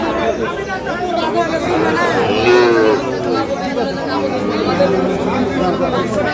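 Sahiwal cattle and calves low amid a busy crowd at Ambari cattle market in Dinajpur, voices chattering steadily all around, with one clear, drawn-out moo standing out midway.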